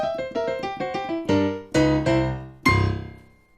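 A boogie woogie ending lick on piano: a quick run of clear, close notes that builds into several heavier struck chords, the last one ringing out alone.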